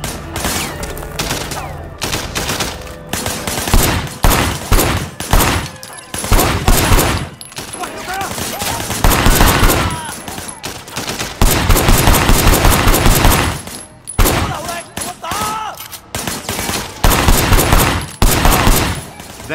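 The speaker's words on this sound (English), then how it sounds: "Shooting at the guys over there." Loud bursts of automatic gunfire and rapid shots from the video game Sleeping Dogs come in repeated close volleys separated by short pauses, with no talking over them.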